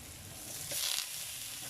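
Fish cake and luncheon meat sizzle in a stir fry, a steady close frying hiss that swells briefly partway through.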